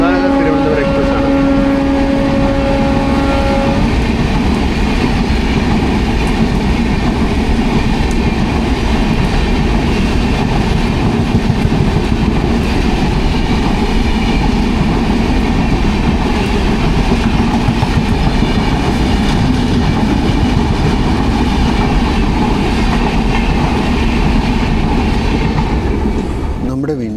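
Loud, continuous rumble of the Sri Ganganagar–Thiruvananthapuram Express heard from aboard another train on the Kozhikode–Mumbai route, a steady roar of wheels on rails with a brief horn-like tone at the start, lasting the whole stretch.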